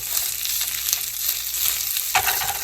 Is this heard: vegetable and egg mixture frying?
yes